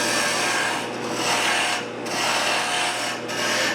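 A bowl gouge cuts wood on a lathe in a woodturning demo. It makes a steady, loud rushing scrape that swells and dips with each pass, with brief lulls near two and three seconds.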